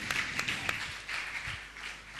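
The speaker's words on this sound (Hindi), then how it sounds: "इनके सम्मान में आप तालियां निरंतर बजें तो कम होगी" Audience applause honouring founding members at a Jain religious discourse gathering, a soft, steady patter of clapping with a few sharper claps standing out, moderately distant and fairly quiet throughout.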